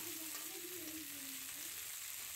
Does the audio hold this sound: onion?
yes